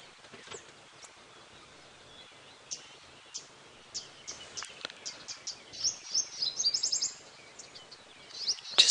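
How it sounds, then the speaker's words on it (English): Bird calls ring out at sunrise on a safari drive: scattered chirps and short whistled phrases, some near and some distant, growing busier and denser toward the end over quiet rustling. "There's some nice bird calls that are starting to come out again."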